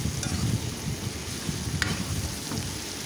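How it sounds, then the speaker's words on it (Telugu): A ladle stirs chili powder into a simmering masala curry of mulakaya and potlakaya, giving a steady low scraping and bubbling sizzle with a brief clink near the middle, close and continuous with no talking. "ఇలా కారం అన్నది పచ్చివాసన పోయేటట్లుగా మొత్తం కూడా కలిసే విధంగా ఈ విధంగా గరిటతో కలుపుకోవాలండి"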